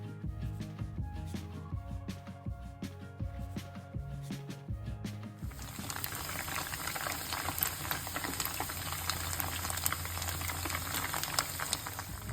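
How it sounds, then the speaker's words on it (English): Tofu goes into warm oil for deep frying: a few seconds of quiet clinks and knocks, then a steady, dense bubbling sizzle that holds to the end. "We are going to deep fry the tofu."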